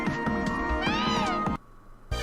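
A cat-like Pokémon cries out in a video game, a bright wavering meow-like call over a rhythmic music bed that cuts to near silence before a brief return.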